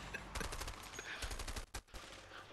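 Rapid bursts of submachine gun fire in the video game A Way Out, a loud, fast rattling stream of shots with a short break near the end, fairly close.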